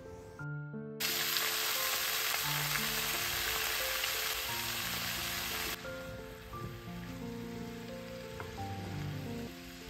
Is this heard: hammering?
no